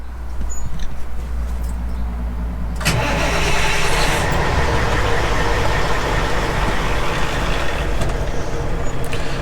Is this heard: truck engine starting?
yes